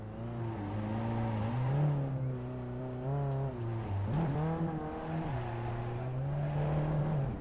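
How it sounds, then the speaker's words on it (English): VW Jetta Cup race car spinning celebratory donuts at the pit lane exit at Summit Point, a loud sustained engine drone with repeated rev swells and pitch rises, close and alone with no talk. "Burkhardt gives us some celebratory donuts in the pit lane exit"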